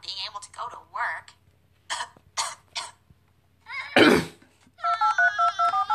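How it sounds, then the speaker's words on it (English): A single harsh cough bursts out midway, surrounded by short voiced utterances and tonal, ringing-like vocal sounds in a quiet room. "I just coughed."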